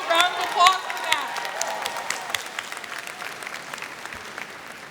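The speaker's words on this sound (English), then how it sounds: "I think everybody deserves a round of applause for that." Commencement audience applause at Drexel University's College of Computing & Informatics ceremony, a crowd clapping in a large hall with a few whoops early on, gradually thinning and softening.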